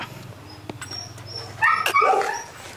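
A five-month-old male Rottweiler gives a brief whimper and short yips near the close, over a low steady background hum.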